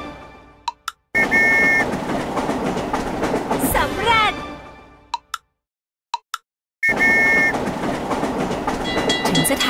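A train departs in a Thai board game, heard as game sound effects. Rumbling rail noise and whistle-like tones come in bursts, separated by abrupt silent gaps and short clicks.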